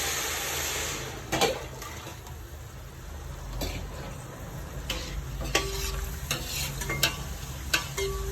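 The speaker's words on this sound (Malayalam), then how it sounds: "ഇനി ഇതിൽ എട്ട് ഗ്ലാസ് വെള്ളം ഒഴിച്ചു കൊടുക്കാം തിളച്ച വെള്ളമാണ്" Boiling water is poured into ghee rice frying in a pot, producing a steady broadband hiss and sizzle with a few sharp clinks and bursts scattered through it. No one speaks.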